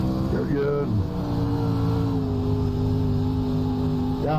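Race car engine in an iRacing pro late model dirt race at Volusia Speedway, droning and revving steadily close up with pitch sweeps at the start and end, with someone talking over it.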